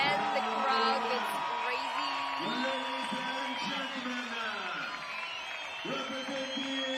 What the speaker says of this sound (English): There go the crowd. It's deafening here in the stadium.